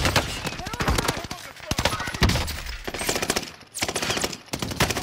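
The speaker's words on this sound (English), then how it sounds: "Hey, somebody else shot me." Rapid gunfire in a video game, with close, loud staccato bursts of shots crackling steadily throughout, under excited player talk.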